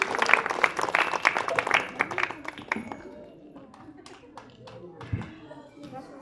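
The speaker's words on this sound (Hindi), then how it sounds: "तो अपने इस विद्यालय के लिए जोरदार तालियां हो जाए आप सबकी।" Audience clapping for a school in Uttar Pradesh, a burst of hand claps from a group that is loudest at the start and dies away after a few seconds, leaving scattered taps and a voice in the room.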